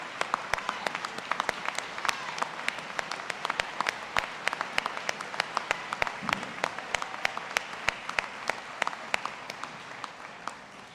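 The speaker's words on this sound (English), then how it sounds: "please stand up, clap for yourselves" Scattered, sharp hand claps from a graduation ceremony audience at Life University, a fairly thin and uneven patter of individual claps that continues steadily from start to finish.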